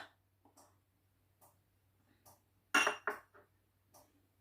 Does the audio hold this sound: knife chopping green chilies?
yes